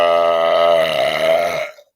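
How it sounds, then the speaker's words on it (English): A single long, loud, tonal burp after drinking a zero-sugar soda, held for nearly two seconds and then cutting off abruptly into silence. "You just burped nothing."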